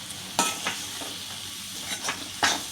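Spices including amchur powder and chhole masala being sautéed in a pan for a Maharashtrian chickpea usal, giving a soft low sizzle broken by a few sharp scrapes of a spoon against the pan.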